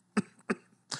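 Three short, dry coughs come close together in about one second, loud and near, with silence between them.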